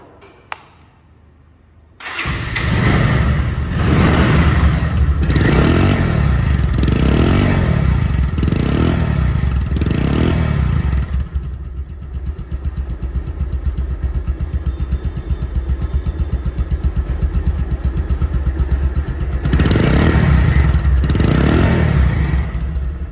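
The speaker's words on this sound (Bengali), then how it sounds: "বাইকটি সাউন্ড কোয়ালিটি শোনাবো" A Bajaj Pulsar DD ABS motorcycle with about 1500 km on it idles and is revved repeatedly in loud rhythmic bursts, then settles to a steady idle before another rise near the end.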